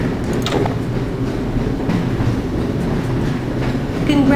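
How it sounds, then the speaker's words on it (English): Train in the Half-Life: Source Black Mesa hazard course rolls along steadily, a continuous rumbling clatter with rhythmic clicks that swells slightly near the end. "Press your forward or backward keys to increase or decrease the speed of the train."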